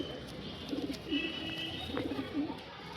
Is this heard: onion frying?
no